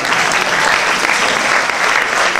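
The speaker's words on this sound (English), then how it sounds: "Another round of applause to our Dean." A graduation oath ceremony audience for a university faculty of medicine gives the dean a sustained round of applause, dense steady clapping from many hands, loud and continuous throughout.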